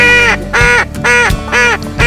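Loud, close mallard duck quacks in a rapid series of four harsh, nasal calls with brief gaps between them.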